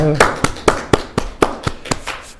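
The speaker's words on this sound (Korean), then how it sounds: "우리 함께 박수 한번 칠까요?" Congregation at a Christmas Sunday service of a Korean United Methodist church claps in unison, about ten sharp, evenly spaced claps, close and loud.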